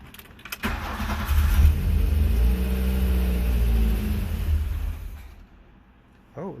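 An old car engine with the choke half on cranks, then catches and roars to a loud rumbling run, settling and fading before a brief final burst near the end.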